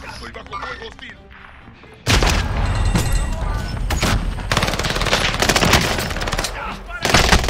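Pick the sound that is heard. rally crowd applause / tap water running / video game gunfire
video game gunfire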